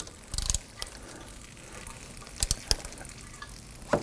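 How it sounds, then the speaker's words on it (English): Oil filter wrench on a ratchet loosening the oil filter of a 2018-2024 Toyota Camry 2.5L L4, a few sharp clicking ratchet bursts spaced apart over a quiet background. "Now we're going to use our oil filter wrench on our ratchet"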